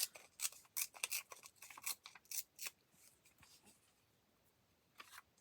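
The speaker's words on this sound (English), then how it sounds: "Tear off the top of this." Paper torn by hand while collaging premade library pockets, a run of sharp, papery rips and crinkles close up in the first three seconds, then quieter rustling and one more short tear near the end.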